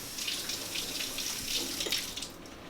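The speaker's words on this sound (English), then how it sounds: "so let me just give it a rinse" Tap water runs steadily into a kitchen sink as a potato is rinsed under it, a close, continuous splashing with small fluctuations and no talk.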